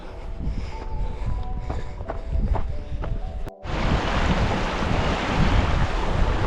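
The Gita mountain torrent rushing along a trail in the Alps, heard as a loud, broad roar of water that swells up suddenly midway after a mix of wind noise and rumble.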